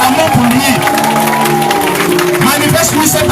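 A worship congregation at an all-night Catholic prayer gathering cheers and shouts for joy, a dense, sustained crowd roar with a clear voice calling out above it throughout.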